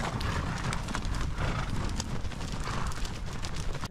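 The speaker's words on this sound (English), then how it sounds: "The horse drive is underway." A herd of horses gallops along on a western horse drive, dense overlapping clip-clop hoofbeats pounding steadily and close, with an occasional whinny rising over the running.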